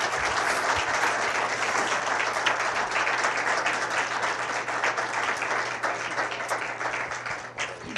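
Audience applause for the panelists at a 2008 internet ethics panel: steady, dense clapping from a crowd, loud and sustained for the whole stretch with no voices.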